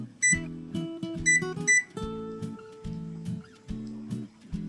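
A kitchen oven's control panel beeps while being set to bake at 350 for a blueberry breakfast cake, giving several short electronic tones in quick groups, close and clear, with low-pitched tonal sounds between them.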